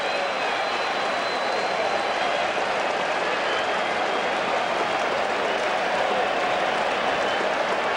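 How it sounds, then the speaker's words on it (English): A stadium crowd at a Mets at Yankees baseball game in 2008 roars and claps in a two-strike cheer for pitcher Pettitte, a loud, sustained wash of applause and cheering that stays steady throughout. "The Yankee portion of the crowd gets the 2-strike cheer going for Pettitte"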